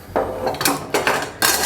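A cheap set of hand garden tools being set down, giving three quick metallic clinks and clatters close by, spaced about half a second apart with no talking.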